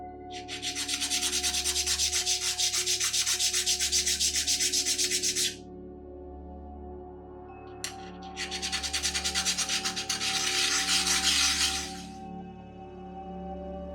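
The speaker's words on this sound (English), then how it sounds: "I also have to flatten the backside of this stone if I want it to sit right on the base plate." A small black stone is rubbed flat on its backside in two long bursts of fast, rhythmic back-and-forth scraping, close and steady, separated by a short pause and a brief tap, over a low constant hum.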